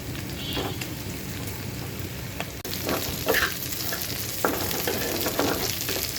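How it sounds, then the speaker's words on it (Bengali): Steady crackling sizzle of onions frying in a pan, with occasional scraping stirs and clicks, close and continuous with no talking. "এরপর আরও পাঁচ থেকে আট দশ মিনিট ভেজে নেব"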